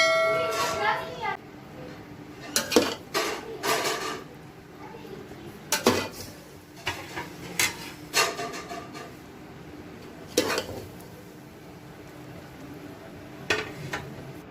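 Chicken biryani is served out of a pot with a metal spoon: repeated scrapes and clangs against metal and a serving dish come at an uneven rhythm, close by, while someone talks and a voice is faint in the background.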